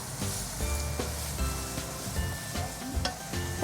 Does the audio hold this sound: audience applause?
no